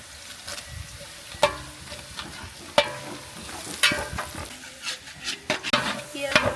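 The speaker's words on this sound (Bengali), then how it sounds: "এখন আমি দিয়ে দিব গোটা মশলা।" Onions and whole spices fry in hot white cooking oil, a close sizzle broken by sharp scrapes and clinks of a stirring utensil against the pan.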